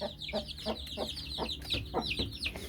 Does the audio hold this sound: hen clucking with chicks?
yes